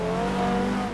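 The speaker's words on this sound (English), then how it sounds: "Bit of a lock up there for Eugene, nothing too serious." Tires locking up under braking in a GT car racing simulator game, a brief loud engine drone with a squealing tonal edge, continuous for about a second with no talk over it.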